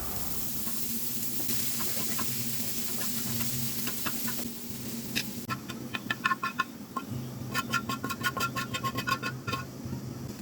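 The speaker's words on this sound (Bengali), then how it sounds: "এখন আমি পেঁয়াজ ভেজে নিব।" Onions frying in oil give a soft, continuous sizzle, followed later by a series of crackling pops and scraping stirs; the sound is fairly quiet and close, with a low background hum.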